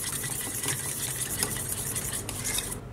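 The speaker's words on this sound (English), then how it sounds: "crack in 1 whole egg into a bowl, along with about a tablespoon of milk. And we'll just mix these together and get it well combined." Whisking a whole egg with a tablespoon of milk in a bowl for an egg wash, a steady rapid clinking and scraping of utensil against the bowl, close and continuous with no talking.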